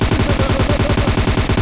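Rapid automatic gunfire in the BGMI video game: a fast, evenly spaced burst of loud shots rattling continuously for under two seconds, with no talking.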